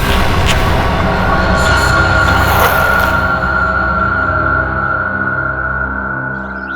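Loud rumble of a train moving at a railway platform, with rolling wheel noise and a high squealing whine that fades out as the train passes.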